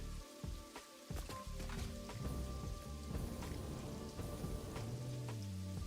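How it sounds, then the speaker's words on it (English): Steady rain in the video game Satisfactory patters and hisses on surfaces beneath building foundations, with occasional louder splashes and a low rumble underneath, fairly quiet overall. "Like, it's raining under the foundations."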